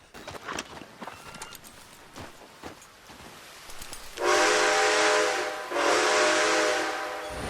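A steam train in the Red Dead Redemption 2 video game sounds two long, loud whistle blasts after several seconds of scattered clanks and knocks, with a low rumble beneath.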